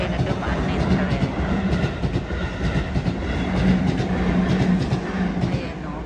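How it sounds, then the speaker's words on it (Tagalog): A train rolls steadily past nearby on a chilly spring day by a cherry-blossom-lined river in Japan, with continuous rumbling and clickety-clack wheel rhythm throughout and no clear talk over it. "Kaya na dumaan na yung tren."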